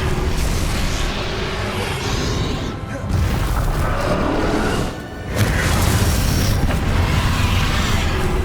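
A spell cast in the video game Hogwarts Legacy, a dense, loud blast-like whoosh that fills the whole clip, with a brief dip near the third second and another near the fifth before it surges again.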